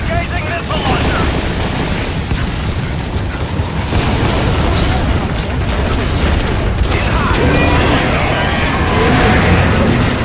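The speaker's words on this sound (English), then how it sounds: "Engaging missile launcher!" A missile launcher fires in Metal Gear Solid V: The Phantom Pain, loud booming blasts and mechanical clatter filling a dense, chaotic battle mix, with people talking over it.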